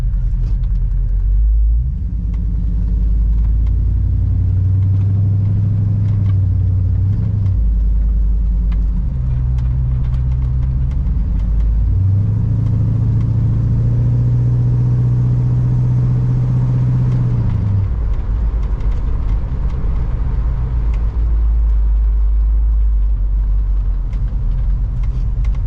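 A 1969 Plymouth Fury III engine idles with a deep steady rumble, rising into a couple of longer revs before settling back to a low loping idle, heard close and loud without talk.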